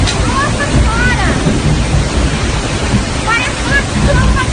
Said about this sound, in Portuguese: Parece uma tromba d'água!